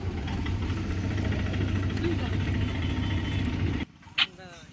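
An auto rickshaw carries passengers from Habra railway station toward Kachua, its engine holding a steady, close, low rumbling drone that stops abruptly near the end, leaving a quieter moment with a brief faint sound.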